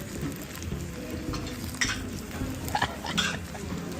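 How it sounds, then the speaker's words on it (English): Food cooks on a Korean BBQ grill in a busy restaurant, giving a steady close sizzle and frying hiss throughout, with a few sharp clinks of utensils and dishes on top. "Can you hear it? It's still cooking."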